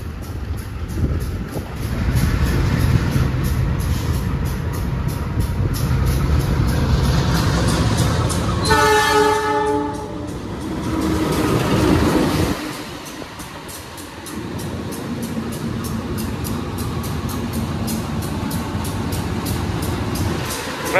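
A Lodaya passenger train rumbles past nearby in Indonesia with a loud, steady roar, a horn sounding midway, before the noise drops to a lower background hum.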